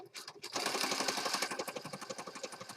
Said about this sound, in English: now I'm just going to stitch on this outside edge here